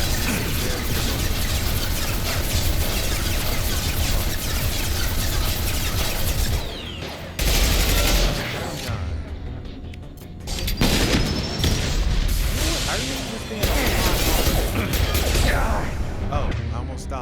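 Dense, continuous gunfire and booming blasts in the sci-fi shooter Mass Effect 2, loud bursts with brief lulls between them, layered under game effects and chatter.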